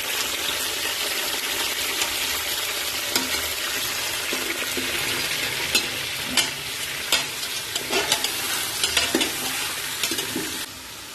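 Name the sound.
chicken frying in oil with stirring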